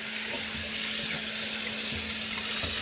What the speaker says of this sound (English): And then I just wash it down with some warm water and fill that tank all the way up.